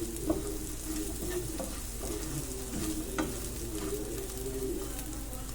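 Soybean chunks fry with a continuous close sizzle in a pan while being turned, with soft scraping stirs over a low steady hum and faint bird coos in the background.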